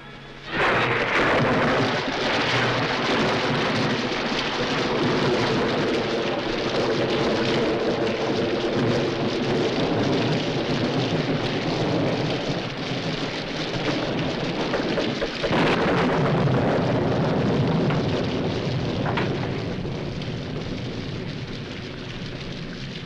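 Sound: rain

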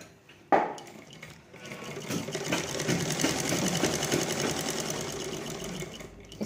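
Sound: sewing machine stitching a blouse

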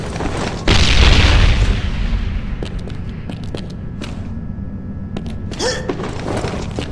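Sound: bomb explosion in Mercenary Online video game

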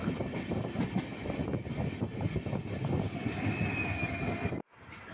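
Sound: Mysuru-Shirdi Express train departing Chikkajajur junction

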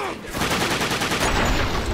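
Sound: gunfire from the video game The Darkness II

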